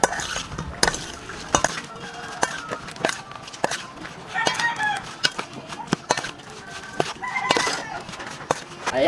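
Utensils scrape and clatter against a pan while stirring fried chicken gizzard sisig over a solar-powered stove, irregular rhythm, close up, with a rooster crowing faintly in the background.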